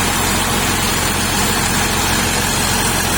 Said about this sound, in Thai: เครื่องยนต์ตัวนี้เป็น 6HK ขีดหนึ่งนะครับ พร้อมเทอร์โบ 260แรงม้า